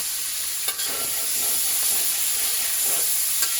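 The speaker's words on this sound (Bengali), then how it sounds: "সেটাই কিন্তু আমি তেলে এখন প্রথমে ভেজে দেব" Loud, continuous sizzling of prawns frying in hot oil, with a few soft clicks of stirring breaking through the steady hiss.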